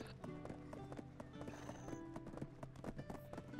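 Fast clip-clopping donkey hooves in Black Desert Online, steady rapid beats layered over game music and effects, with faint talk underneath.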